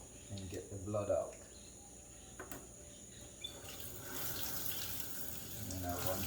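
Tap water running to rinse blood off raw beef in a kitchen, a soft steady hiss that swells toward the end, with a voice briefly speaking at the start.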